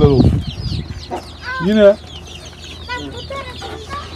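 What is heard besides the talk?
chickens clucking in a farm coop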